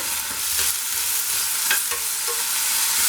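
Tomatoes frying with onions in a pan for hotel-style vegetable kurma, a steady close sizzle with a few scraping stirs, no voices.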